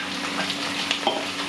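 Chickpeas drop into a pan already frying with sweet potato, peppers and garlic, giving a steady close sizzle with a couple of brief sharper crackles, no voices over it.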